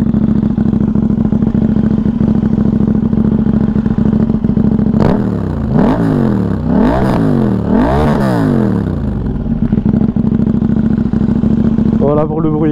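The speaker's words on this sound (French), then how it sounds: "Si vous voulez, je vous refais entendre le bruit de la KTM." A KTM 890 Duke motorcycle engine idles steadily up close, then is revved hard several times in quick succession, each rev rising and falling sharply before settling back to idle.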